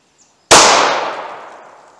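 A single 9mm pistol shot from a 4-inch-barrel Ruger Security 9 fired with Federal Hydra-Shok Low Recoil ammunition: one sharp, loud crack close by, trailing into a decaying echo over the next second and a half.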